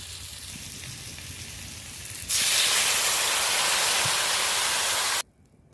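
A pot of sour curry with mango, sweet potato and fish hisses and sizzles as it cooks, with a loud steady wash of noise that swells midway and then cuts off abruptly.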